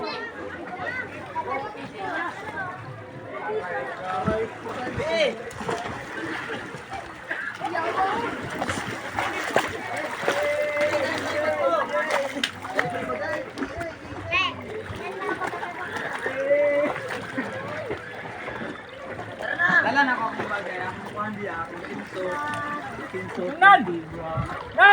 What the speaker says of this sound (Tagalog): sasakay kami ng bangka